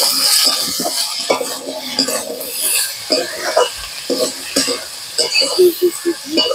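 Bitter gourd and potato pieces sizzle in a pan as a utensil stirs and scrapes them in bursts of clinking and rustling, close and fairly loud, with a faint cough.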